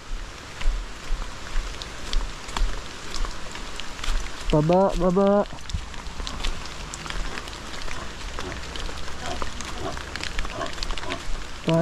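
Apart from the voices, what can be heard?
heavy rain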